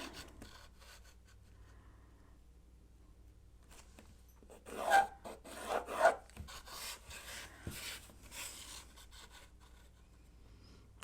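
A pen or marker scratches and rubs across quilting fabric while drawing quarter-inch seam allowance lines around a Dresden plate template, in a few short close strokes over a quiet background.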